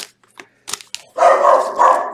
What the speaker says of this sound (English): Oh, that's a loud bark.